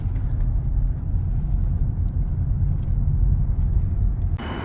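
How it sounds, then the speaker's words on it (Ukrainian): A car drives along a road, its engine and tyre rumble a steady, loud, close drone from inside the vehicle with no speech, briefly easing near the end. "я їду на замовлення"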